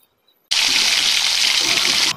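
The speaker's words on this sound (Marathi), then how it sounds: "आता सर यात पाणी घालतो" Water pours into a pan of onion, chilli and curry leaves for upma, a sudden loud, steady gushing splash that starts abruptly and runs on without a break.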